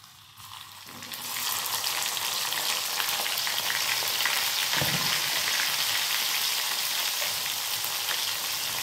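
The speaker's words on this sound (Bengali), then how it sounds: "এরপর এটাকে আমি ভেজে নেব ভালো করে।" Tomato and chopped green chili frying in a pan with cumin seeds and asafoetida, a steady loud sizzle that starts softly and then fills the whole stretch without any talk.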